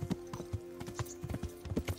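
Horse hooves clip-clopping in the medieval video game Kingdom Come: Deliverance, a quick, even trot of close, crisp knocks about every quarter second, fairly quiet and with no talking.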